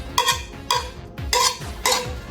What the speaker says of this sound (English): Scrape out the pan.